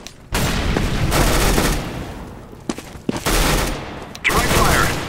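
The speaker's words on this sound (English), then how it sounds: "Incendiary out." An incendiary grenade bursts in Counter-Strike: Global Offensive, loud, with roaring fire and crackling mixed into gunfire, in several sustained bursts broken by short gaps.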